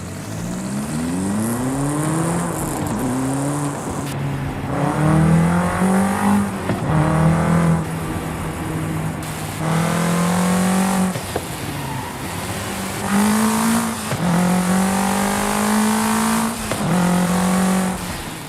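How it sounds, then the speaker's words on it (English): A car in Forza Horizon 5 revs and accelerates repeatedly through the gears, its engine pitch climbing and dropping with each shift, while an intake whoosh and brief tire squeals sit close and loud. "if you have your camera inside of the cabin, or on the hood especially, you can hear the air being sucked in"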